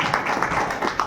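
An audience at a church Christmas program claps briefly to welcome guests, a short burst of scattered hand claps at moderate loudness.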